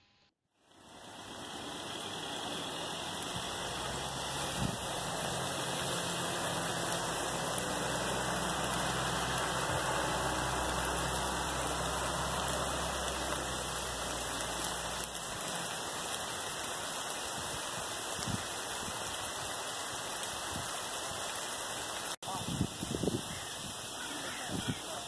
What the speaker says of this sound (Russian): Это шум дождя, обещанный в такую жуткую жару.